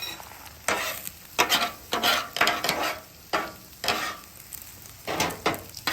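Scrambled eggs being stirred and scraped on a flat-top griddle for breakfast taquitos, with repeated bursts of close, crackling sizzle rising and falling roughly every second, no talking.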